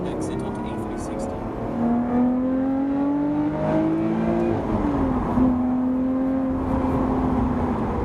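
A Lotus Evora GT430 engine accelerating on the road, a smooth rising note that climbs through the gears with a shift dip midway, close and loud from inside the car, with brief speech over it.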